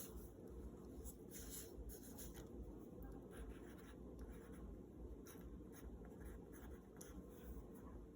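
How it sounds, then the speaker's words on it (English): Pen writing labels on an eye muscle diagram, a faint, quiet scratching of strokes over a steady low background hum. "So I'm going to write along the edge here."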